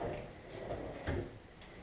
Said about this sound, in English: the bank of drawers